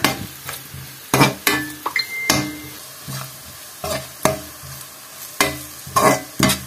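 Spices, including regular and Kashmiri chilli powder, are stirred in a pan with a long run of repeated scraping strokes at an uneven rhythm, close and fairly loud, over a light sizzle.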